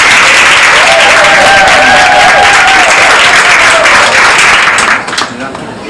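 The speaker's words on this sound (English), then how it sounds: "Let's give everyone a round of applause." Loud audience applause at a community anniversary celebration for environmental justice groups, steady dense clapping with some cheering and voices mixed in, fading off near the end.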